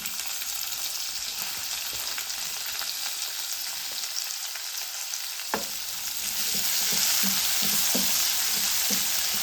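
Onion sizzles steadily in a pan for veg appe, a bright continuous hiss that grows fuller partway through, broken by a few stirring scrapes and taps, close and with no voices.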